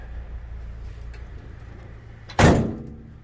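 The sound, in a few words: door of a 2006 Sprinter 2500 van being slammed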